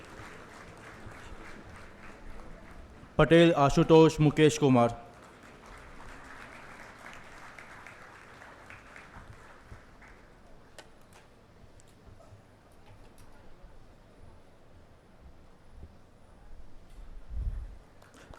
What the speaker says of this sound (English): Sound of your clap is a validation of your degree